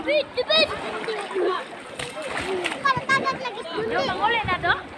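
Children splashing and playing in the sea at Bitoon Beach in Anda, with bursts of splashing and excited high voices shouting and chattering close by throughout.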